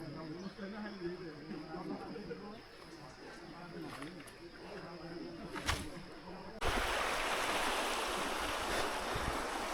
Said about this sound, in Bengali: কি সুন্দর পানির আওয়াজ